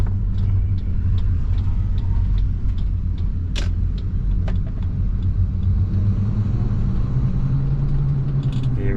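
A Ford Territory SUV of the SX or SY series, fitted with a throttle controller, accelerates slowly in economy mode, giving a steady low engine rumble and road noise from inside the cabin with a few faint clicks.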